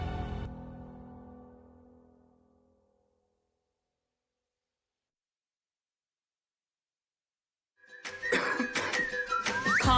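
A single harsh cough in a clinic advertisement, loud and close at the start and trailing off into silence, followed by a short burst of lively sound near the end.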